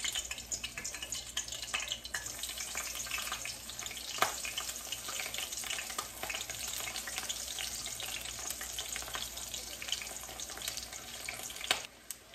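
Food fries in hot oil with a loud, continuous sizzle and crackle, broken by a few sharper pops, close by.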